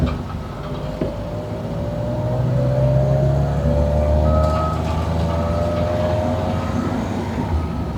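Nash Metropolitan small car engine pulling steadily in second gear after a manual shift, a continuous moderate drone with a rising whine, loud and close throughout with no talking.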